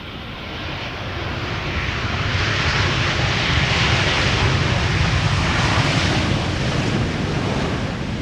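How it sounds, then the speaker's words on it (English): A ten-year-old Belgian TUI airliner arriving at Amsterdam Schiphol Airport after a flight from Willemstad, Curaçao, its broad engine roar swelling in and holding loud and steady, with wind rumble at the microphone. "Let's quickly turn to the Belgian TUI arriving from Willemstad, Curaçao."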